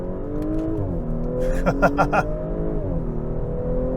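A 2024 Audi S5 Sportback pulls hard in first gear, its engine note climbing steadily before a shift, with a few sharp clicks partway through and a voice briefly talking over the drone.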